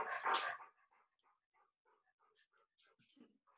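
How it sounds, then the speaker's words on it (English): A dog close by gives one loud bark, followed by a string of soft whimpers and whines; a quiet voice is faintly present. "And my dog just came right next to me, so he's going to be loud."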